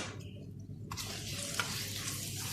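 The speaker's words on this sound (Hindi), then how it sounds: "और अब इन सब चीजों को अच्छी तरह से मिक्स कर लूंगी।" Semolina halwa with raisins, almonds and coconut being stirred in a pan, a soft low sizzle that brightens after a moment, with faint scraping, close and quiet, no talking.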